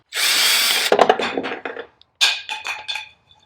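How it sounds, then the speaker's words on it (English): A power drill whirs briefly, then gives several short, clattering bursts as it drives bolts installing a boat sonar mount, close by and loud. "I'm rigged up with my drill so I can do this quickly"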